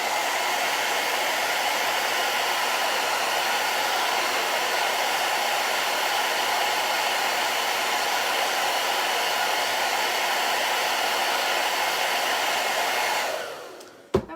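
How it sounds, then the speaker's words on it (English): A blow dryer runs steadily at close range over a chalk design, a loud continuous airy whoosh that holds constant for about thirteen seconds before cutting off abruptly. "let's blow dry this one last time"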